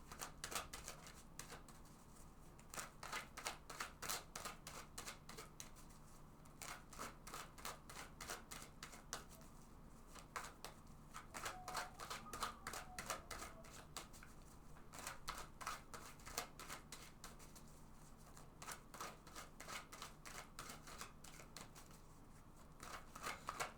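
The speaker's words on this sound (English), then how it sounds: "So let's go ahead and shuffle this deck several times." A deck of tarot cards is shuffled repeatedly, rapid crisp flutters and clicks coming in bursts, close by and fairly quiet.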